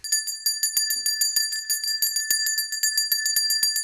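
A small bell is rung rapidly and repeatedly to celebrate a Yankees series win, bright metallic rings in a steady fast rhythm throughout, close and loud with no talking.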